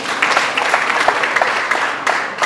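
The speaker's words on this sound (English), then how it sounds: "A round of applause, please." Applause from the audience at the APPMAN annual national conference breaks out, brief and moderately loud, with clapping crackling steadily through the short moment.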